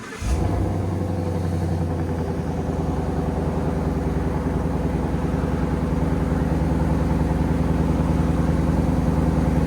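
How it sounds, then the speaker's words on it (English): A 2016 Ford Mustang GT with a 5.0L V8, Flowmaster X-pipe and valved X-Force mufflers idles with the valves closed: a quick burst at the start, then a steady, quiet, low burbling rumble. "All right, guys. Flowmaster X and X-Force mufflers. Here we go. Valves closed."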